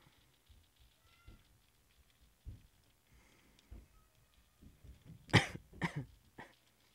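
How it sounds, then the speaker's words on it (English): A few cough bursts near the end, loud and close, after a stretch of quiet low thumps, with no talking. "I just coughed."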